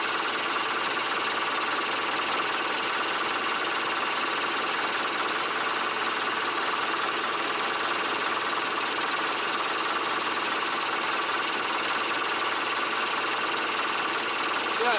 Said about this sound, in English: check the engine running